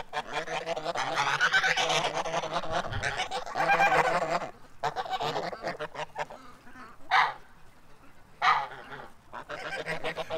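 A flock of white Chinese and African geese honk loudly and close by in overlapping, raucous calls, with a few louder single honks standing out near the end.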